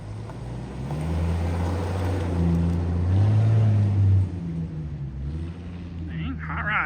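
A Jeep XJ accelerates past with a low, droning engine note that swells and then fades, heard from a short distance, with people talking over it.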